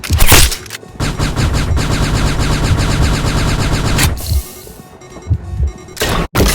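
Sustained rifle fire in a video game, a dense, loud rattle of rapid shots running continuously for several seconds, then trailing into scattered single bursts and brief gaps.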